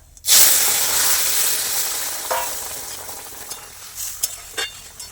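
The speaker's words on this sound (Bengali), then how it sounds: "একটু গরম হয়ে নিক, জিরে দিয়ে ফোড়ন দিয়ে নেব।" Cumin seeds tempering in hot oil for a Bengali koi fish curry with raw banana and drumsticks, a sudden loud sizzle bursting in and holding steady, with a few later spits and stirring clinks, no talk.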